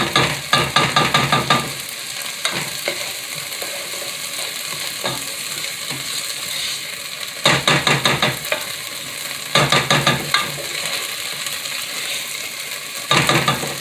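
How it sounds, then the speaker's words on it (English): Vegetables sautéing in a pot for vegan tomato basil soup, a steady sizzle broken by bursts of rapid, close scraping and rattling as a spoon stirs against the pot, with several stirring flurries over the quieter frying. "Keep stirring it."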